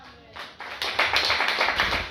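Gospel congregation applauding loudly for Jesus, a dense swelling wash of many hands clapping together that builds after a quiet start and stays strong to the end.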